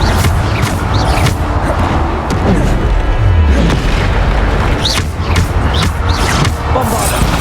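Repeated booming blasts from the Bombarda spell in the Hogwarts Legacy video game, loud and dense, with rumbling impacts and crackling debris layered over a continuous battle din.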